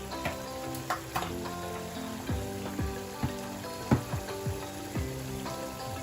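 Lamb shank frying in a spice masala in a pan, a steady sizzle with scattered pops and soft scraping knocks from stirring, fairly close and without any talk.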